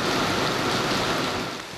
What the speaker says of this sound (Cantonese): 將軍澳更加橫風橫雨，成晚都喺度落雨